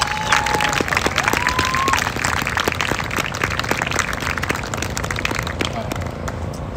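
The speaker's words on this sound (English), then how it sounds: "Let's give Donna another round of applause." A crowd at a justice march in Portland, Oregon, applauds with dense, steady clapping and some cheering, sustained throughout at moderate distance, with a voice briefly audible.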